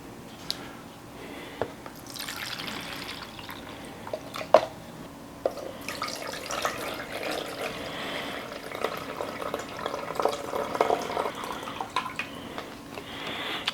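Water poured in to fill the base of a small paludarium tank, a soft, irregular trickling and splashing with occasional sharp drips and clicks over many seconds.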